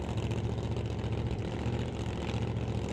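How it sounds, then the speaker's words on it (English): A Pro Mod drag race car idles down the track at a drag strip. The engine gives a continuous, loud, low throbbing rumble with a slightly uneven pulse throughout. "Steve Horn idles down the racetrack"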